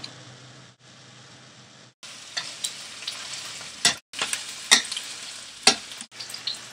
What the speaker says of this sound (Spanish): Añada la cebolla y pimiento en la sartén con el aceite y fría la por un minuto.